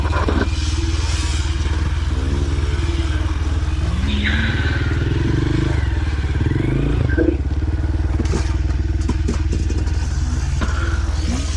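A Honda CRF230F dirt bike climbs a trail hill, its engine droning loud and steady nearby with pitch shifts as it works uphill, plus occasional clattering.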